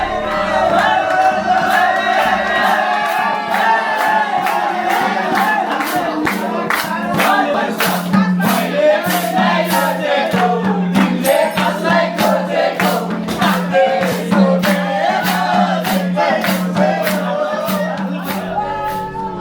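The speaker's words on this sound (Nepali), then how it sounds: "उनीहरूले मादल बजाउँदै गीत गाउँदै ताली बजाउँदै नाच्दै एकदमै रमाइलो गर्दै थिए" A group of students beat a madal drum, sing, clap and dance at a trekking hotel on the Mardi Himal trail in Nepal, loud and close with steady sharp claps and voices.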